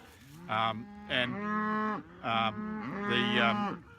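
Cattle mooing in a grazing paddock of tall Phalaris grass where about 170 calving cows are kept, with four loud, close, drawn-out moos in quick succession and no talk.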